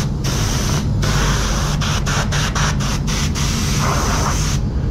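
A compressed air blow gun blasts across a car panel during a clear-over-base spot repair, a loud steady hiss broken by several quick on-off bursts in the middle.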